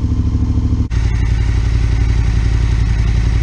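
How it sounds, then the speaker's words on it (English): Yamaha T7 motorcycle engine warming up after an O2 sensor delete, a loud steady close idle with an even pulsing beat and a brief dip near the start, no talking. "I'll leave it warm up, then give it a bit of a rev"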